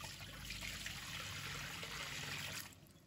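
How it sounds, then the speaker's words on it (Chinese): Clean water pours into a wok, a steady close splashing rush that eases off near the end of a short stretch, with no talk. "接下来锅中倒入清水"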